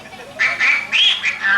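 A duck quacks loudly and close by in a quick run of four or five nasal quacks with no pauses between them.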